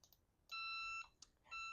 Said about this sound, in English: That beeping is because it has an electronic key that it needs.